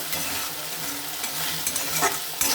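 Spice paste frying in oil in a pan for a coriander rohu fish curry. The sizzle is loud and continuous, with stirring scrapes and a few sharper clatters toward the end.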